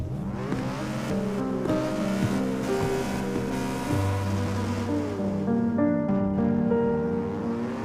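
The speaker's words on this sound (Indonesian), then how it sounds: "bisa nggak jangan ngegas-ngegas motor terus?" A motorcycle engine is revved repeatedly nearby, its pitch climbing and falling in sweeping surges over several seconds, loud and continuous with no voices.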